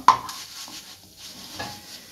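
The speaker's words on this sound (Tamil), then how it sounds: "நல்லா பொன்னிறமாக வர்ற அளவுக்கு நல்லா வறுத்து எடுத்துக்கலாம்." Vermicelli roasting golden brown in a pan gives a soft dry sizzle with a few scraping stirs, one sharp clink near the start, close and fairly quiet.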